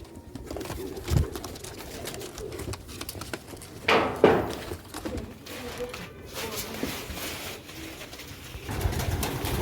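Sialkoti black-faced pigeons coo softly at close range among rustling and shuffling, with a few sharper flutters or knocks standing out against a low, continuous background.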